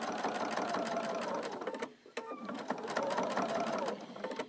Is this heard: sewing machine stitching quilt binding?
yes